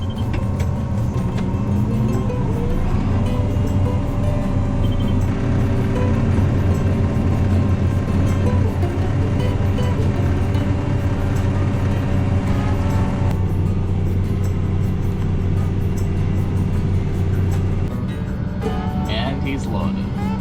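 A truck pulls up to a sugar beet harvester working at night, its engine joining the constant heavy drone of harvester machinery, conveyors and hydraulics, with a shift in the machine noise partway through.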